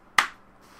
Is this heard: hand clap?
yes